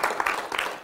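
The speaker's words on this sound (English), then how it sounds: "Can you give the Lord a hand clap for Jesus?" A church congregation at a Wednesday night service gives a brief burst of hand clapping, close and fairly full, cut off after less than a second.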